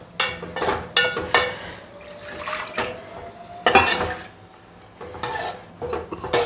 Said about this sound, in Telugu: కొద్దిగా నీళ్ళు వేసుకోవాలి